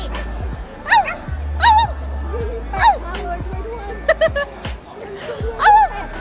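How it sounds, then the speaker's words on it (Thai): A dog barks on command in a few short, sharp yips and woofs, spaced irregularly, while several people chatter and laugh around it in a lively room. "เห่าเห่าเดี๋ยวนี้"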